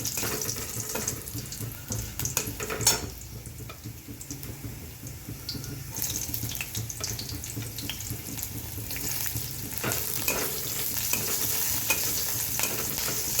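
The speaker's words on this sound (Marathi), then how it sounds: "हळद आणि मिरची टाकून ती तेलामध्ये भाजून घेऊ।" Turmeric and chili roasting in hot oil in a pan for a Maharashtrian bhindi bhaji, giving a steady close sizzle with stirring scrapes and a brief clatter near the start, continuous throughout with no talk.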